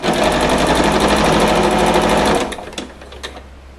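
Sewing machine stitching quilt pieces together with a 1/4 inch seam, a fast steady whirring run close by that stops abruptly, followed by a few soft clicks.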